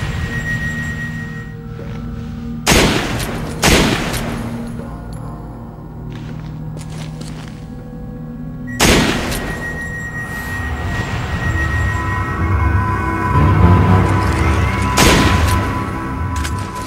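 Loud, widely spaced gunshots ring out in the Resident Evil 5 video game, each a sharp single blast followed by a decaying echo, over a droning ambient game soundtrack.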